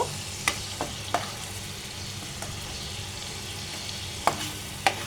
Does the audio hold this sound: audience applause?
no